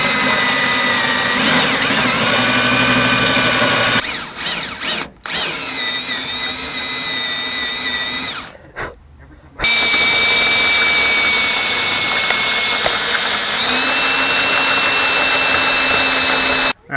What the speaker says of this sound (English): got all these rivets out, or spot welds drilled